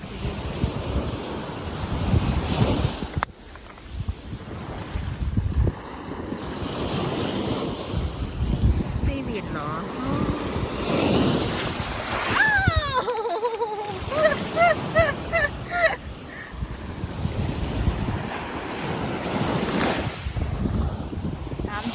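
Sea waves wash onto a beach at Magnetic Island, rolling surf with heavy wind buffeting the microphone throughout, with brief faint voices in the background.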